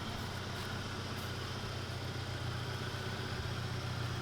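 A 1993 Ford Mustang four-cylinder engine idles steadily throughout, a quiet, even low hum with no talking over it.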